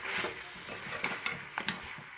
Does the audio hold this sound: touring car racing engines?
no